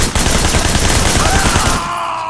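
Dense automatic gunfire from police in the Hong Kong open-world game Sleeping Dogs, a loud continuous burst of rapid shots that cuts off near the end, leaving a quieter tail.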